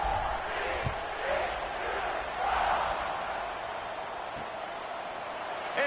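Stadium crowd in a college football video game roars in a broad, steady wash of cheering that swells briefly midway, with no speech over it.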